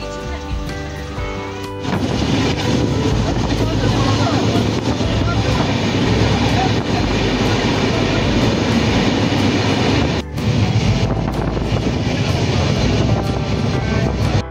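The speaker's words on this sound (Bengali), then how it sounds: "আমাদের ট্রেন এখন নামিয়ে দিয়েছে, এই যে দাঁড়িয়ে আছে ট্রেন" Loud rumbling of a train standing at a station, steady throughout with a brief dip, mixed with background voices.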